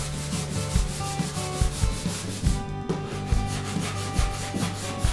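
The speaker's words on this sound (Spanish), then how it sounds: "Primero, lijar." A wooden skirting board is hand-sanded in a bedroom being renovated, with quick rhythmic back-and-forth rubbing strokes, close and fairly loud, with no voices.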